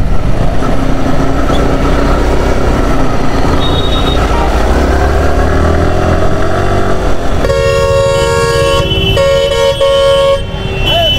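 A group of seven or eight motorcycles, among them a BMW GS, on a Sunday ride: steady engine and road rumble nearby, then a vehicle horn toots several times in short bursts toward the end.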